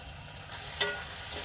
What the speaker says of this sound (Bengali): মশলাটা কিন্তু খুব ভালো কষায় হয়ে গেছে